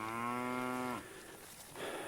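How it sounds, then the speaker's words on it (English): A heifer on a cattle farm gives a single loud, drawn-out moo lasting about a second, then a quieter pause before a soft breath or rustle near the end. "That's a heifer over there."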